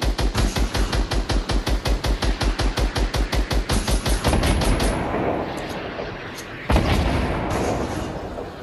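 Rapid automatic gunfire in a shooter video game, a loud steady burst of evenly spaced shots for about four seconds, then a lingering rumble and one more sharp blast.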